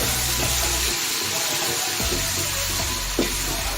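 Tomatoes added to a frying masala for bhindi chicken, a loud, steady sizzle with crackling and occasional stirring scrapes, close and continuous with no talking.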